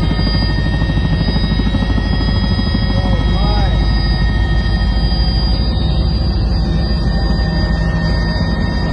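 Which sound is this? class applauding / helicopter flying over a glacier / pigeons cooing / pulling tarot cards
helicopter flying over a glacier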